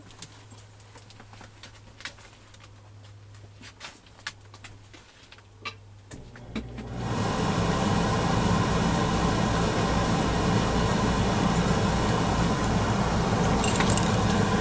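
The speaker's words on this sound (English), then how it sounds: "I need to turn my air conditioner on." A room air conditioner is switched on indoors: faint clicks, taps and a low hum at first, then after about six seconds a loud, steady blowing roar starts and continues to the end without talk.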